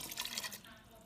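Thin cornstarch and water slurry poured onto strawberries for a glazed strawberry pie, a short wet splashing pour that fades within about a second.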